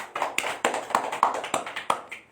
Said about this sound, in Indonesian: Tepuk tangan untuk Bu Joni